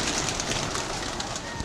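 Pigeons coo softly in a loft or rooftop coop, repeated low rolling calls close by over a faint hiss of background noise.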